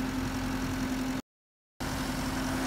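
A JCB engine runs steadily at idle-like revs while pulling a very large tank toward a well, a constant close mechanical drone with a strong hum, broken by a brief gap of silence midway.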